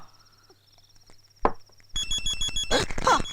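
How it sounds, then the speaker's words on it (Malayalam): A mobile phone ringtone starts softly, is interrupted by a brief clatter, and then rings loudly with a repeating electronic tone in an indoor domestic scene. "നിന്റെ ഫോൺ അടിക്കണേ"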